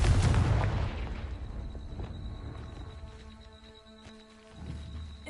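A blasting-spell explosion in a wizard-school video game: a loud, booming burst at the start that rumbles and fades over several seconds, with faint tonal game effects lingering and a smaller thud near the end.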